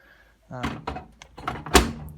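Washing machine door being shut on a WMA40 washer, a couple of close plastic thunks and a latch click within about two seconds, with no talk over it.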